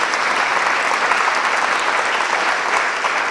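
A lecture-hall audience at KTH applauds four panel colleagues, with dense, steady clapping that fills the room evenly throughout at moderate loudness with no voices over it.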